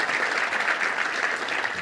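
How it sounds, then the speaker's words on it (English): An audience at a Little Rock Touchdown Club luncheon applauds 5th and 6th grade football players, a short, steady burst of loud, dense clapping. "Let's give you a round of applause."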